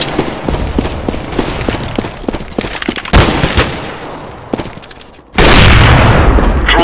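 CS:GO grenade blast: a loud, broad explosive boom erupts near the end after a run of rapid gunfire and scattered impacts, the detonation dense and close.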